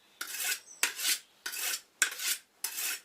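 A sickle blade being sharpened by hand, five even strokes of steel scraping along the edge in a steady unhurried rhythm, close and crisp with short pauses between passes and no talking.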